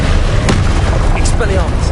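Incendio fire spell cast in Hogwarts Legacy, a loud whooshing burst with a sharp pop and crackling rumble, set against dense combat noise and a voice.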